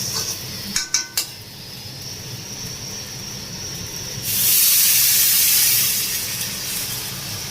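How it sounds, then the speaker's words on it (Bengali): Water is poured into a pot of fried rice being cooked for pulao. A few clinks of utensils come first, then a loud, sudden sizzling hiss that swells and slowly fades. "এখন আমি জলটা দিয়ে দিলাম"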